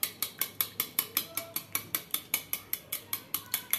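A whisk or fork beats three cracked eggs in a bowl, ticking against the sides in a fast, steady rhythm of about five sharp clinks per second, close and clear.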